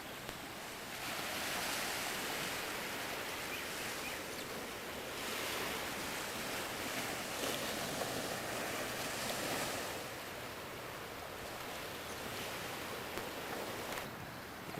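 Steady ocean surf washes in at a Hawaiian beach of lava rock and white sand, a continuous roar of breaking waves with gentle swells in intensity and some wind buffeting the microphone, no voices.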